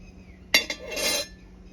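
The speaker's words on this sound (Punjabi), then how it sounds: "ਹੁਣ ਆਪਾਂ ਕੜਾਹੀ ਧਰ ਲੈਨੇ ਆ ਉੱਪਰ" A metal kadhai is set down on a stovetop over a lit fire, giving a sharp clank followed by a brief second knock and a short metallic scrape, close and otherwise quiet.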